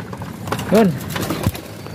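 Domestic pigeons being released from a training box give a short cooing call, followed by a soft flutter or knock, against quiet outdoor background noise.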